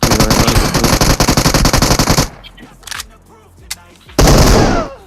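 Rapid automatic gunfire from the battle royale game PUBG Mobile on the Erangel map, a dense loud rattling burst lasting about two seconds, then scattered single shots and a final heavy burst, with no talk.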